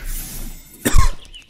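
One person lets out a harsh, wet cough: a short rough throat sound, then a louder burst, then a smaller follow-up, close and clear with nothing else around it.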